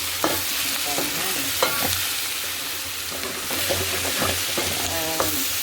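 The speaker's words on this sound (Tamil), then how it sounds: "பார்த்தீங்கன்னா வெங்காயம் நல்லா வதங்கி வந்துடுச்சு." Onions sautéing in plenty of oil for an onion chutney, a steady sizzle and frying hiss with repeated stirring scrapes throughout, close and fairly loud, no talking.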